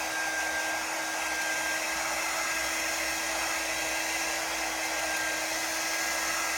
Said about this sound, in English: I'm going to go ahead and dry this